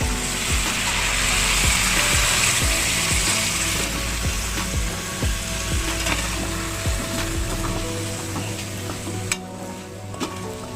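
Water is added to frying onions and ground ginger in a pan for a Kashmiri lamb curry, producing a steady loud sizzle with repeated scraping stirs that eases off near the end.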